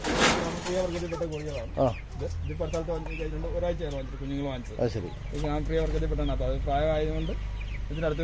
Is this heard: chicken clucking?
yes